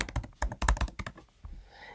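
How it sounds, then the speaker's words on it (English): Password being typed on a computer keyboard to log in to a Raspberry Pi. A quick run of close, crisp key taps fills about a second and a half, then tails off. "we're going to have to type in the password to the Raspberry Pi that we made"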